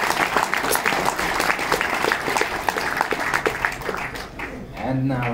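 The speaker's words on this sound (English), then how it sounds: "your applause for Peter Sidi from Hungary" Audience applause for the third-place finisher at an air rifle shooting competition in Munich, a steady burst of clapping across a hall that thins out near the end as a voice begins to speak.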